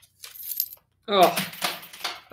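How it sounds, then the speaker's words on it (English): Loose coins, pennies and nickels from bank rolls, clatter onto a floor in a couple of short jingling bursts. A brief metallic rattle comes first, then a louder, longer spill. "I've lost so many coins on the floor tonight."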